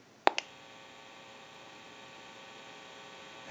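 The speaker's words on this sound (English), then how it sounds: "if you hear any noise or any electrical hum, it will be coming from the amplifier" A faint, steady electrical hum from a test amplifier wired to a Western Electric 554 rotary wall telephone under repair, with two sharp clicks near the start and another at the end.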